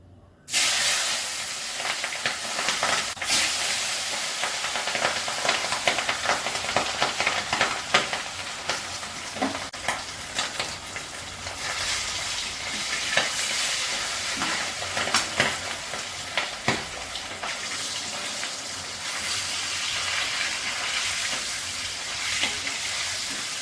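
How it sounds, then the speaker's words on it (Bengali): Steady, dense sizzling of hilsa fish frying in hot mustard oil, a continuous crackling hiss with occasional sharper pops, close and fairly loud. "মাছটা ভাজা হয়ে গেছে, হালকা ভাজি তুলে নিচ্ছি"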